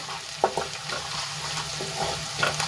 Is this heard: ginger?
yes